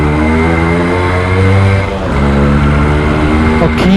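A Yamaha RX100 two-stroke motorcycle engine revs loudly and steadily with a buzzy, high-pitched drone, held close, briefly dipping before picking back up.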